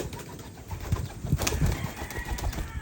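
Free-flying pigeons cooing close by in low, throaty repeated coos, with faint wing and shuffling noises mixed in.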